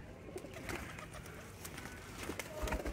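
Flying pigeons coo softly in a Lahore loft, faint and low, with people talking nearby.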